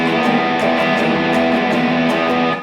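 Distorted electric guitar playing a riff without left-hand muting, a dense, loud, continuous ringing wash of sustained notes with rhythmic pick attacks, played alone for about two and a half seconds.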